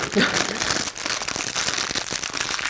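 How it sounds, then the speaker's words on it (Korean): Plastic wrap crinkles as it is pushed inside a rosebush-style flower centerpiece, making a steady close crackling texture while someone talks over it. "비닐은 안쪽으로 이렇게 밀어 넣습니다"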